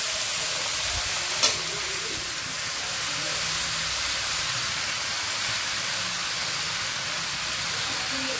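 Bhog rice stirred and fried in a pan, a steady broad sizzle running throughout with soft scraping of the stirring and one sharp knock near the start, close and even in level.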